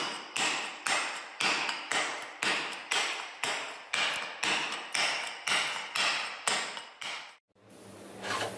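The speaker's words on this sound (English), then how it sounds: "Each chisel strike has its own rhythm." Steady, evenly spaced chisel strikes on carving stone, about a dozen sharp, loud impacts at a metronome-like pace, each ringing briefly before the next, ending in a short break and a change of sound.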